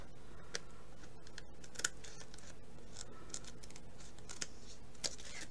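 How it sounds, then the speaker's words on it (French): Scissors snipping through a ribbon from the back during a craft project, a few faint, sharp clicks spaced apart against quiet room tone. "je vais le couper par l'arrière"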